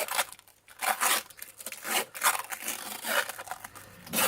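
Tape is torn off a roll and wrapped around a box forge filled with dirt, giving repeated rasping rips and crinkles in bursts with short pauses, close and steady, with no voices.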